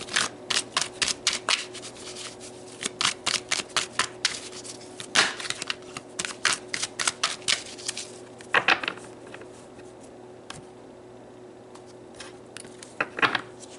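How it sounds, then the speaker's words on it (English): Tarot cards being shuffled and pulled, crisp rapid riffling bursts and soft slaps in quick irregular clusters, close and fairly quiet with pauses between handfuls. "let's pull some more cards and dig a little bit deeper about these soulmates"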